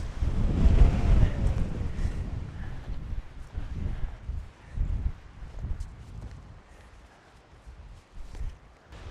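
Strong wind gusts of around 30 miles per hour batter the microphone at a lakeside trail in Rocky Mountain National Park, loud rumbling buffets rising and falling in surges, no talking.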